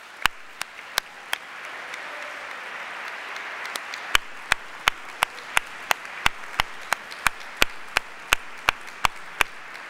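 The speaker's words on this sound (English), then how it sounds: "So let's give them a round of applause." An honors convocation audience applauds performers with a steady wash of clapping, while sharp, regular loud claps from one nearby person punctuate it throughout.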